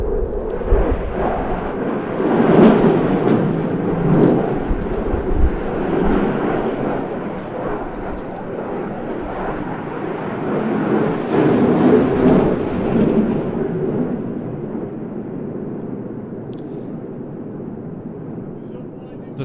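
Eurofighter Typhoon jet with EJ200 engines on afterburner, roaring loudly and continuously through a tight turn at an air display in Jersey, swelling twice as it passes, with announcer talk underneath.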